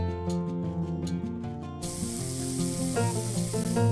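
A shower bursts on in a cartoon bathroom, giving a steady, loud hiss of spraying water that runs continuously over soft background music.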